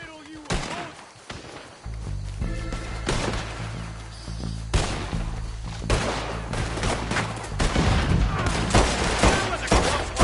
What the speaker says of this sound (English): I'll riddle you with bullets.